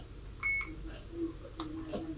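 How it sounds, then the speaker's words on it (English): A camera's short electronic beep rings out once, brief and high-pitched, amid faint background room noise and a few soft clicks. "It's beeped."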